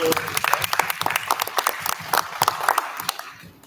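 Scattered, fairly close hand claps from attendees at a school board meeting, an uneven burst of individual claps with some murmuring before fading out.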